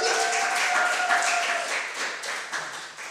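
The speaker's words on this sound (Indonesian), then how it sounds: "Tepuk tangan dulu buat Allah kita." Scattered clapping from a church congregation during an online worship service, a steady patter of many hands with sustained tonal voices or music beneath, moderately loud and near.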